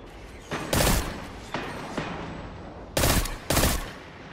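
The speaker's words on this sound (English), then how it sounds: "He's still shooting at me." Pulse rifle fire in a shooter game comes in short bursts, several loud crackling volleys spaced about half a second to a second apart, with quieter thuds between.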